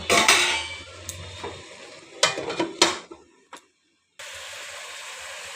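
Gourd leaf curry is stirred in a pan, with a few close scraping and clinking strokes of a spoon against the pan over a soft sizzle, then a brief silence before a quieter steady simmer.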